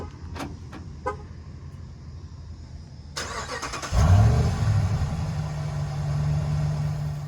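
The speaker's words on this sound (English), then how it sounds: "Just listen to this remote start." A truck's 5.7 litre V8 starting by remote: a few faint clicks and chirps, a whirring crank, then the engine catches with a loud low roar and settles into a steady, deep idle, close by with no talk.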